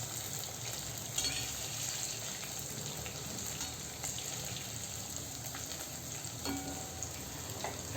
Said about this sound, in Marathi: असे आपण आता हे कुरकुरीत होईपर्यंत तळून घेऊया.